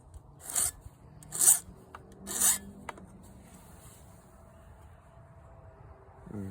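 A burred blade is stroked against a sharpening stone or file in three slow, close rasping passes about a second apart, followed by quiet stillness.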